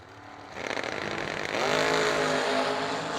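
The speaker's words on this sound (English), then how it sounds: "Now she's racing his car." Hot rod race car at a drag race, once a grandfather's car, its engine roaring loudly and building in intensity partway through, a sustained close drone with crowd and track noise behind it.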